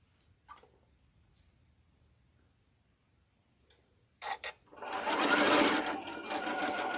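A sewing machine starts up after quiet handling and runs steadily, stitching fabric cut on the bias with the presser foot pressure reduced; the motor hum is fairly loud and close, with a few small clicks beforehand.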